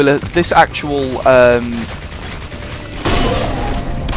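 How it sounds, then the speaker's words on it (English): Assault rifle fire in the video game God Mode: a loud, dense burst of shots cuts in during the second half, after voices are heard in the first half. "So now it's equipped me with an assault rifle."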